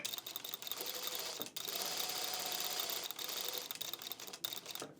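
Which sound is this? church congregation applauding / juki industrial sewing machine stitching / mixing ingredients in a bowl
juki industrial sewing machine stitching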